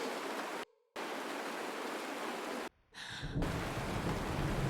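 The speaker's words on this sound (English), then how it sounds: "It's raining!" Rain falls in the Honkai Star Rail video game as a steady hiss of broadband noise, broken by two brief silent gaps and a short tonal flourish, then thickening into a heavier downpour with no talk.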